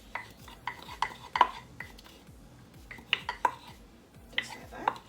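Ingredients for a callaloo roti wrap get beaten in a bowl, heard as quiet rhythmic clinks and scrapes of a utensil against the dish, repeating in short bursts.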